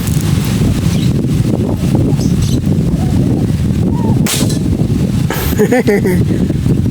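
Strong wind gusting across an outdoor airgun shooting spot, a loud steady rumble buffeting the microphone throughout, with people talking under it and a few sharp knocks near the end.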